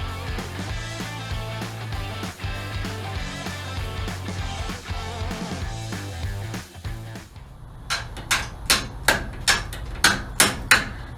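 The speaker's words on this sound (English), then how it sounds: "Just in case you guys didn't know, that's a hammer." A hammer strikes metal in a workshop around a 1969 C10 pickup, about seven sharp, evenly spaced blows in the last few seconds. Before them comes a long stretch of unrelated music.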